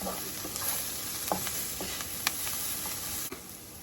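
Onions fry in sesame oil in a skillet, giving a soft, steady sizzle with occasional small pops and light utensil clicks, fairly quiet and close, with no talking.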